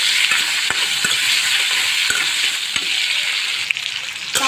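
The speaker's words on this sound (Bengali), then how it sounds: "তো আমার আলুটা এখানে ভাজা হয়েছে" Potatoes frying in soybean oil in a wok give a steady, loud sizzle with sharp crackles and pops scattered throughout, close up and with no voices.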